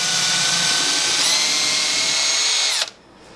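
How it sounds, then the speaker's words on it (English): A power drill with a 1/8-inch bit pre-drilling screw holes whirs at a steady, loud pitch, rising slightly partway through, then winds down and stops near the end. "pre-drill with an 1/8-inch bit for the screws that I'm using"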